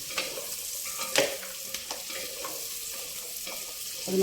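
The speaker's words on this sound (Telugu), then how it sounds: "ముందే చూసుకుంటే అవి చక్కగా నూనెలో మగ్గిపోతాయి అన్నమాట." Carrot, onion and drumsticks sauté in oil for sambar, with a faint hiss of frying broken by occasional light clicks of a stirring spoon.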